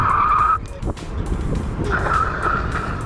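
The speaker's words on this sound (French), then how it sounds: "le frein est très puissant, suivant le terrain sur lequel vous roulez, vous risquez même le dérapage" A Kugoo G-Max electric scooter brakes hard and skids, giving a loud, close tire squeal that fades briefly and then returns, with no talk over it.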